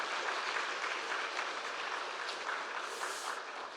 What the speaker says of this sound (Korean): 하나님께 영광의 박수와 올려드리도록 하겠습니다